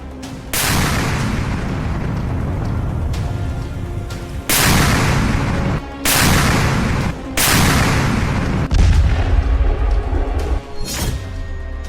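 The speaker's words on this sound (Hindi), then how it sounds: "खार्किव में पुतिन का PION मचा रहा है कहर।" A Pion self-propelled artillery gun fires near Kharkiv, several loud booming blasts spaced a few seconds apart, each followed by a long rumbling decay.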